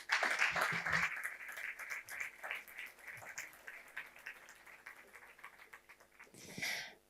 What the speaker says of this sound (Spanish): Vamos a darle un fuerte aplauso a Nazaret.